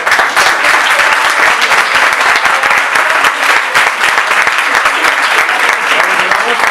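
A crowd claps loudly and continuously, a thick close-up roar of many hands with individual slaps audible throughout, heard alone without talk.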